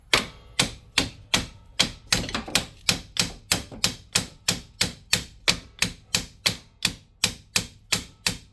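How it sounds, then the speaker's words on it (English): Evenly spaced light taps of a hammer on a leaf spring bolt during a leaf spring install, about twenty sharp metallic knocks in a regular rhythm, close and clear with no talking. "See if you can tap that bolt up just real lightly, because I don't want to mess the threads up."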